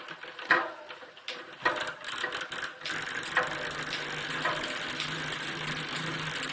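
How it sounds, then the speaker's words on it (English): Freewheel on a Planet X TT bike, a steady fast mechanical ticking that runs continuously, close and moderately loud, with some clunks and handling noise at the start. "That noise is the freewheel."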